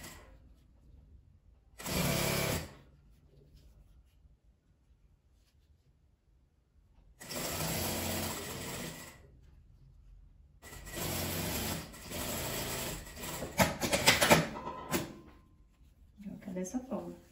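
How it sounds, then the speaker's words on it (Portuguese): Sewing machine stitching patchwork fabric pieces together face to face, several short bursts of rapid mechanical whirring separated by pauses, with quiet speech in the gaps. "Eu vou colocar frente com frente e emendar ela toda."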